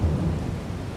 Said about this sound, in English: Alright, now it's raining.